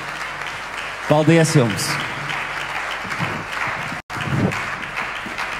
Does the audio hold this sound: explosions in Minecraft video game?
no